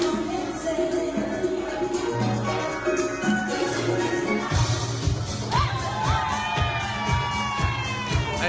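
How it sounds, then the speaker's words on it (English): An excited crowd cheers and shouts continuously, with children's voices mixed in. Denser bursts of clapping join partway through, and the noise stays loud and busy throughout. "Now everybody's excited and they're clapping and we're having fun."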